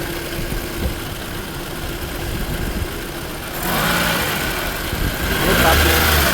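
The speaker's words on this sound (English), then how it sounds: "See how the engine is sounding properly." Toyota 2AR engine idling smoothly after an oil control valve repair, a steady mechanical hum with the radiator fan kicking up partway through, making the sound fuller and louder.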